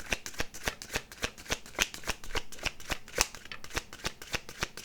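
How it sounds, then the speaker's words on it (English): Tarot cards are cut and shuffled up close, making a fast, even train of crisp riffling clicks that runs steadily throughout with no voices. "Let's cut the cards and let's jump into it."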